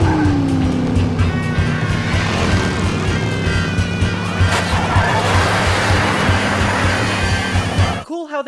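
Animated older-style race cars roar past with engines straining, tires squealing through skids, loud and continuous, before the sound cuts off sharply at the end.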